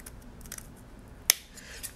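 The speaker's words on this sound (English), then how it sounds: "I'm just going to cut it with my scissors" Light snipping of scissors, with soft rustles and a single sharp metallic snip partway through.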